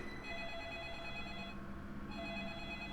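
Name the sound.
telephone ringing in the video game Deadly Premonition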